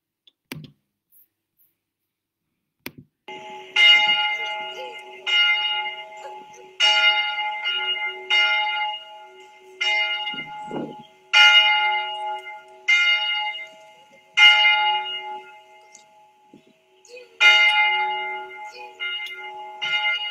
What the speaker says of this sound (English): We conclude our time of prayer by listening to our church's bell.